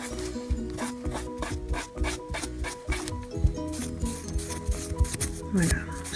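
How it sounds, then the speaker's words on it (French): Brisk, rhythmic rubbing as fingernails are wiped with nail polish remover to strip an old base coat before a gel nail application, close and fairly loud, with repeated back-and-forth strokes and no talking. "je vais passer un dissolvant qui va permettre d'enlever toute ma base que j'avais mis déjà préalablement"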